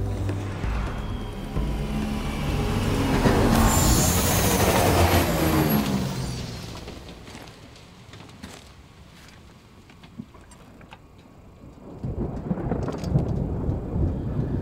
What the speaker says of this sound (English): Looks like there's a storm coming.